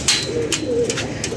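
Pigeons coo softly in a domestic loft with a rainy-day setting, low murmuring calls repeating under faint background noise across the short span.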